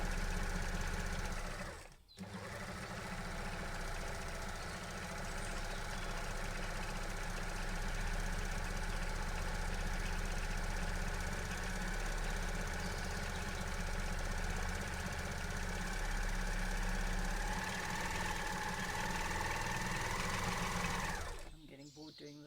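An overlock serger sewing machine runs in a loud, steady mechanical whir for about twenty seconds, starting after a brief pause near the beginning and stopping abruptly at the end.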